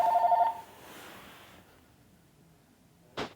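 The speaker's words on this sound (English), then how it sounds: "Oh my gosh, my phone's ringing." A phone rings with a short electronic tone at the start, then fades into faint room noise, with one sharp click near the end.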